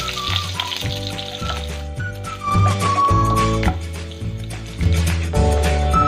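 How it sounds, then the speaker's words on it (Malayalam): Finely chopped garlic fries in hot oil with a steady close sizzle, heard under music that plays through the whole stretch. "ഇതിലേക്ക് നമുക്ക് ഒരു 4 വെളുത്തുള്ളി ചെറുതായി അരിഞ്ഞത് കേട്ടോ ഇട്ട് കൊടുക്കാം."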